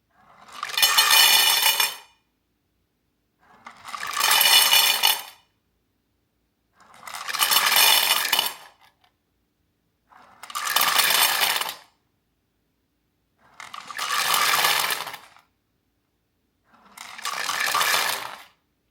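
Papifeed automatic cat feeder for two cats dispensing dry kibble in six separate pours, each a roughly two-second rattling rush of pellets, evenly spaced with short silences between, close and clear.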